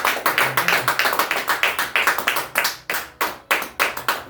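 Rhythmic group clapping in a church service as the congregation applauds the Holy Spirit, steady sharp claps at a fast even beat, close and moderately loud, with a faint low hum beneath.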